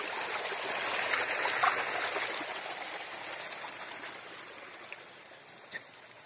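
Water flowing in a jungle stream in the Raniban forest near Pokhara, Nepal, a steady, even rushing hiss that holds throughout with no breaks.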